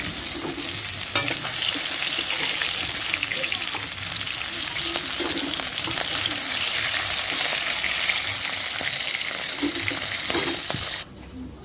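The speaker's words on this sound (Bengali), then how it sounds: "মাছের মাথাগুলো ভাজা হয়ে গেছে" Hilsa fish heads sizzle in hot oil with a steady, close crackling hiss that cuts off abruptly near the end, leaving quiet room sound.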